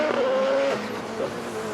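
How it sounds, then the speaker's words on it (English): A 700-plus horsepower winged Subaru time attack race car accelerating hard at a hillclimb shootout, a loud sustained engine note with a rising whine, heard alone. "Here comes that monster of a Subaru."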